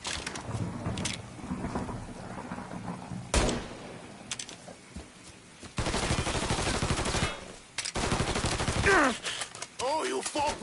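Rapid bursts of gunfire from the video game Mafia 3 crackle and boom amid a chaotic firefight, with loud blasts and sustained shooting under shouted voices.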